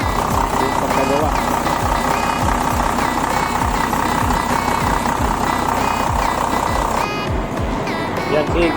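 A car engine runs after a cylinder head gasket replacement. The close, steady idle has a regular pulsing beat and continues unbroken throughout.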